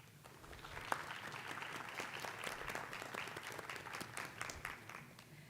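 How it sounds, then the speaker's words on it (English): An audience at a physician assistant graduation ceremony gives the graduates a round of applause, quiet and distant-sounding, with a dense patter of many hands and a few sharper individual claps standing out. "Graduates, give them a round of applause"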